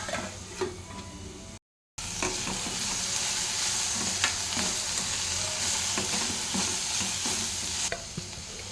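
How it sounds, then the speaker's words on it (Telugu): Cabbage curry fries in oil in a pan with a steady, close broadband sizzle, and repeated scraping stir strokes sound through it. There is a brief silent gap near the start, and no one speaks. "కర్రీ ఇది ఆయిల్లో ఫ్రై అవ్వాలి"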